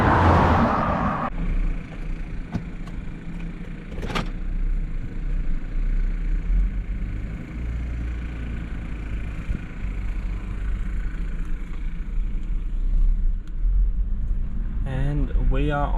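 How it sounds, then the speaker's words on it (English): Road traffic rolls past a roadside camp near Cann River on cars heading toward Melbourne, a steady low rumble with a louder vehicle passing at the start and another nearing at the end. "so plenty of traffic heading back towards Melbourne"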